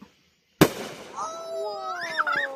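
A single sharp Fourth of July firework bang nearby, followed by whistling, crackling trails and fainter pops, with people talking excitedly over it.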